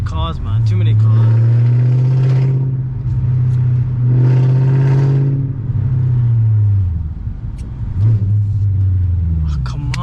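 A loud Audi V8 car drives in traffic, with a deep, close engine rumble that swells through two strong revving pulls, eases off, then picks up again.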